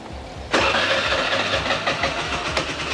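A motorbike engine turns over and catches at about half a second, then idles steadily with a low mechanical rumble and a brief rev near the end.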